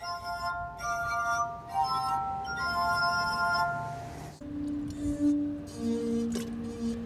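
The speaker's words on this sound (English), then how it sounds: "And I could play 4 glasses at once." Musical glasses played four at once give sustained, ringing chords of pure overlapping tones, shifting to a lower chord partway through, close and clear with no talk.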